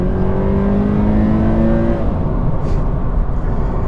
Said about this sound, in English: You do hear a lot of engine noise